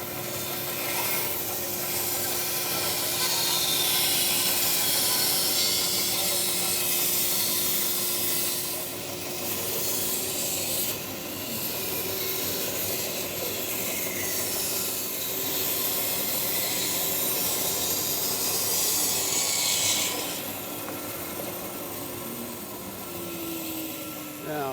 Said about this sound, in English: So I'll turn on the dust collector, turn on the bandsaw, sculpt this out